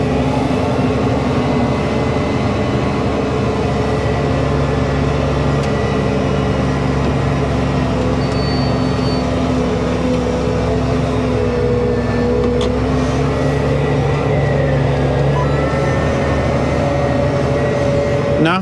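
Claas Axion 960 TT tractor with TerraTrac tracks, pulling a Claydon T6 seed drill, driving with a loud, steady gearbox whine and engine drone heard from inside the cab, continuous throughout with no talking.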